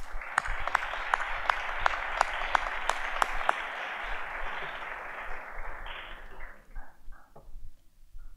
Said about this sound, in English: So applaud for your parents